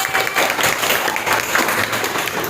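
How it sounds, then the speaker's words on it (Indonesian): Classroom applause for a student named Jen during a civics (Pancasila) teaching session, dense steady clapping from a group of students lasting a few seconds. "Tepuk tangan untuk Jen."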